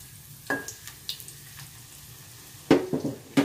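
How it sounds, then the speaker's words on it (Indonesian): Eel frying in oil in a pan: a low background sizzle with scattered sharp clinks and scrapes of a utensil, louder stirring near the end. "Kita goreng pucungnya ya Bu."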